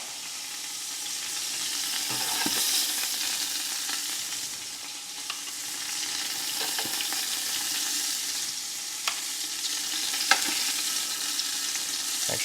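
Short ribs and oxtail sear on a Blackstone flat-top griddle, a steady close sizzle with occasional sharp pops and crackles rising out of the hiss.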